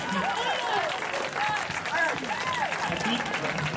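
Applause and cheering from a crowd at a Trans Pride march in Melbourne, loud and continuous throughout with a whistle-like voice and shouts mixed in.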